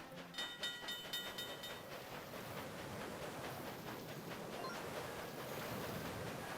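A train from the Nintendo DS game Zelda Spirit Tracks runs along its tracks with a soft, steady rolling rumble and faint rhythmic clatter, quiet and continuous after a few brief chiming tones.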